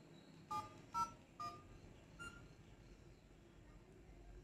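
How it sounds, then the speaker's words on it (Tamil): Keypad dialing tones from a OnePlus Nord CE 2 Lite smartphone: three short, quiet beeps in a steady rhythm, then a fainter fourth, over a low background hiss. "இப்போ நான் கால் பண்ணுறேன் பாருங்கள்."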